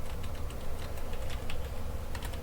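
Fast typing on a computer keyboard while entering a passphrase, a quick continuous patter of close key clicks over a steady background hum.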